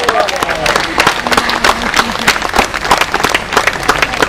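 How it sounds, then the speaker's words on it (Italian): Audience applause fills a hall at a choir concert at Musicarte II, a dense, steady wash of many hands clapping close and loud throughout. "Applauso alla nostra Rina."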